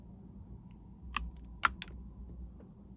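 A few sharp snips of pruning shears cutting back an Eastern Redbud branch, two distinct clicks close by over a quiet background, with no talk.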